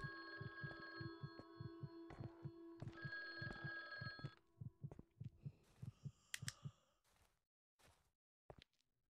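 Telephone ringing in a horror video game, two bursts of an old-style bell ring close together over a pulsing heartbeat-like thud, followed by a sigh and scattered quieter noises.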